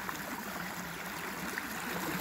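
Creek water flows in a steady, soft rush with faint trickling, continuous and alone without any voices.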